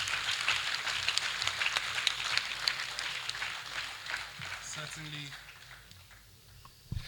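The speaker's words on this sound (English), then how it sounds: "Please let's give him a rousing round of applause." Audience applause at a public unveiling ceremony for a Nigerian reputation management group, a broad, steady wash of clapping that carries on for several seconds before thinning out toward the end.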